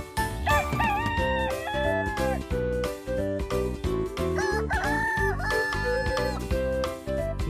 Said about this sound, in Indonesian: ini ada ayam jago